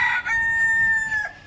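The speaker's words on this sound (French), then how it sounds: "maintenant il y a une meute de coqs" A rooster crowing loudly nearby in the Bahamas, one long drawn-out call with a strained, wavering tone, heard alone.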